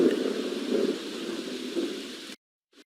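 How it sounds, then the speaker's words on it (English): Rain falls in a steady, dense hiss for a little over two seconds, then cuts off abruptly into silence. "Rain."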